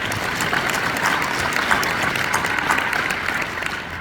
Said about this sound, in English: Another round of applause for our keynote speaker for 2023.